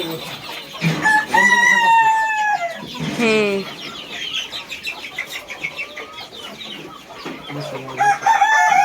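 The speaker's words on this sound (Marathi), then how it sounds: "ह्या कप्प्यामध्ये मोठ्या कोंबड्या आहेत" Chickens in a caged poultry coop, with larger hens in one compartment, cluck and squawk loudly up close, with drawn-out calls, shorter clucks and a quieter stretch in the middle.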